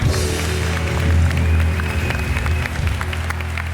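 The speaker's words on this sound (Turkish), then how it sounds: "bu dört tane güzel insana, genç arkadaşımıza büyük alkış gönderelim." Studio audience of a TV talk show applauding four young guests, sustained dense clapping with a low rumble underneath, steady and loud from start to finish.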